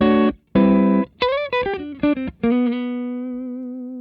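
An electric guitar played through a Fulltone Fatboost 3 pedal with the bass boosted, warm jazz tone: two chords, then a quick run of single notes, ending on a note left to ring and fade.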